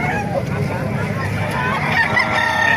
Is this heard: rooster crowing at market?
yes